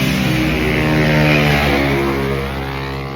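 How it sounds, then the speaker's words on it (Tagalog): Several motorcycle engines pass close by, a loud continuous droning rumble that swells slightly mid-way and then eases as the bikes move off. "Pasensya na, maraming motor."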